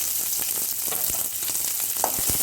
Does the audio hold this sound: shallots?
yes